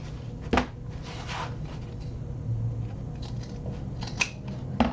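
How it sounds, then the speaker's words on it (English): Scissors snipping the fabric box corners of a handbag: a few sharp, isolated cuts spaced seconds apart over quiet handling noise, close and clear. "I am going to trim down our box corners just a little bit."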